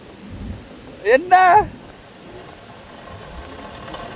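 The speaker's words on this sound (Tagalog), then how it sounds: "Ayan na yung ulan!" Steady rain hiss fills the background while a voice briefly calls out; light patter continues evenly after.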